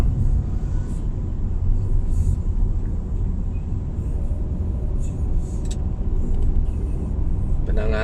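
Car traffic rolls along a city street in Medan, Indonesia, a loud continuous engine rumble and tyre roar from passing vehicles, with someone speaking over it.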